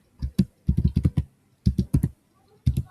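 Programming code being typed on a computer keyboard: close, crisp key clicks in quick clusters of four to six strokes separated by short pauses, with no talk.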